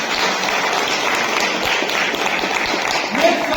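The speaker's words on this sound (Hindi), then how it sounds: "इंडियन परिवार के लिए जोरदार ताली बजाओ।" Steady, loud audience applause at a public event promoting the Indian constitution, a continuous wash of clapping with faint crowd voices underneath.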